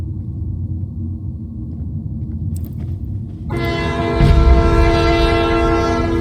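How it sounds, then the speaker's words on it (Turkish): A train horn blares loud and close in a Roblox horror game, cutting in midway over low rumbling rail noise and holding steady to the end with a heavy low thump. "Tren çarptı."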